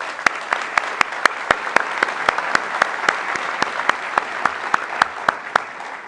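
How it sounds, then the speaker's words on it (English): Round of applause from the audience at an induction ceremony, steady crowd clapping throughout with one close, sharp clapper standing out in a regular beat. "for whom I kindly request a round of applause"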